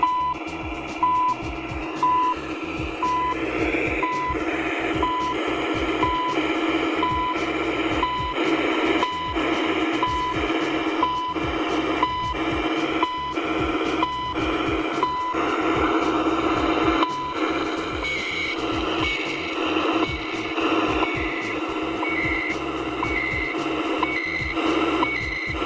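CHU Canada shortwave time signal heard on a Kaito Voyager Pro KA600L radio: short, evenly spaced beeps tick once per second through a hissy, static-laden shortwave carrier, with a brief pause near the end and no talk.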